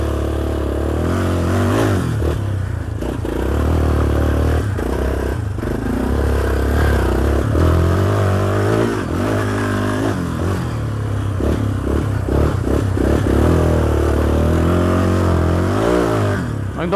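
A Yamaha Raptor 350 quad labours through soft sand, its engine droning and revving unevenly up and down, close and loud, with clattering and scraping over the continuous strain.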